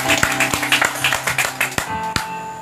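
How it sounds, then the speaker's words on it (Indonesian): Clapping for God during a church service, a few irregular claps and taps spread over a couple of seconds above a steady background drone, with sharp separate hits rather than a full wash of applause. "Tepuk tangan buat Tuhan kita"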